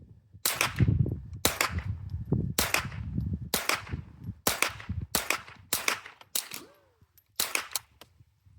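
A Savage .22LR rifle fires repeatedly after a misfeed is cleared: about nine sharp, loud cracks at roughly one-second intervals, each followed by mechanical clatter from the action being cocked, with no talk.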